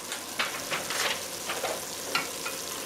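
Oregano, chili flakes and tomato paste sizzle steadily with softened onions in a hot pan, a quiet continuous frying hiss broken by a few brief scrapes of stirring.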